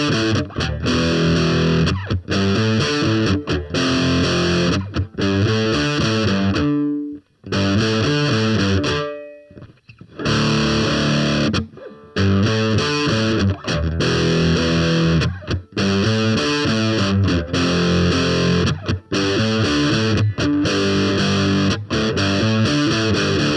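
Heavily distorted electric guitar plays a riff, a loud, chugging, palm-muted pattern of repeated notes with two short breaks and a sustained ring, with no talking.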